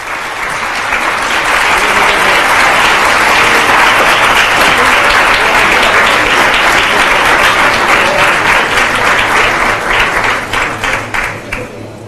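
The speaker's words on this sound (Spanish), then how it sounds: "Recibimos con un fuerte aplauso al expresidente de República Dominicana, Leonel Fernández." A large conference audience at CADE 2013 breaks into sustained, loud applause welcoming former Dominican Republic president Leonel Fernández, a dense wash of clapping that swells quickly, holds steady, then thins into scattered claps near the end.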